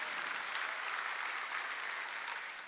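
Sustained applause from a large church congregation during a Wednesday worship service, dense and steady clapping throughout.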